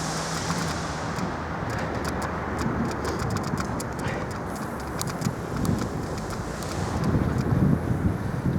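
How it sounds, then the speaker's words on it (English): Road bike, a Felt Z100, rolling through a tunnel: a steady, broad rushing roar of wind and tyre noise that swells slightly toward the end, with no talking. "It's a tunnel."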